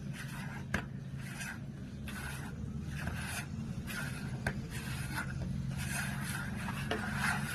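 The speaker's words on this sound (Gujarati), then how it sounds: "હવે 6 વાટકી માટીને લઈશું. હવે તેને મિક્સ કરીશું." Soil being mixed by hand with cow-dung manure, measured out in bowlfuls: a steady, close rubbing and scraping texture with faint repeated strokes and no talking.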